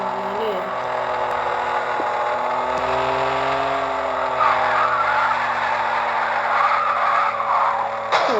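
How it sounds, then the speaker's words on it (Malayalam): In a driving video game, a car's engine drones with shifting pitch as it revs and drives, while tires squeal and skid, loud and continuous throughout. "വണ്ടിയുടെ ഒച്ചയൊക്കെ ഗൈസ്."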